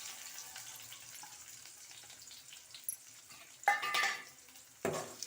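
Thinly sliced onions with fresh curry leaves frying in a pan, a steady soft sizzle with occasional louder scraping stirs near the end.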